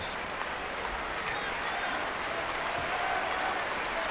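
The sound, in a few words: wrestling arena audience applauding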